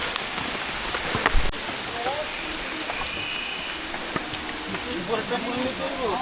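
Steady rain patters on surfaces close by on a hillside trail up Chandranath Hill, Sitakunda, Bangladesh, a continuous hiss with occasional louder drops and faint background voices.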